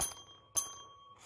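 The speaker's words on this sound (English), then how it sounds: "This is a bell." A small souvenir bell from the Hollywood Tower of Terror rings twice, each bright metallic strike followed by a clear, sustained tone that fades out, in a quiet room.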